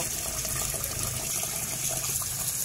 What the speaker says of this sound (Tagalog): Ito na po yung malagkit, nilagay ko na sa kaldero. Huhugasan natin to ng 3 beses po.